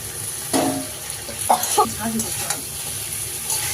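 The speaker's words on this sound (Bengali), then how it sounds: "মশলার সঙ্গে মাছটা ভালো করে কষে নিলাম" Sea fish pieces being stirred and cooked in a red chilli and coriander spice masala, with a steady sizzle and a few scraping spatula strokes, moderately loud and close.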